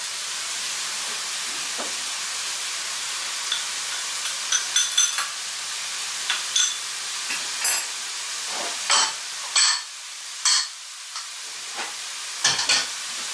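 Spices, quinoa and mushroom fry in a pan with a constant close sizzle, while a spoon scrapes and stirs in short irregular strokes, each stir stirring up a brief louder hiss and clatter.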